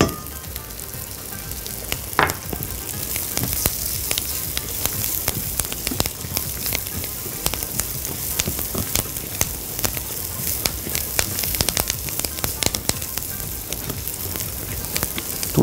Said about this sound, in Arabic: طول ما انا بحمرهم مش هشيل ايدي خالص من النار عشان انا مش عايزاهم يتحرقوا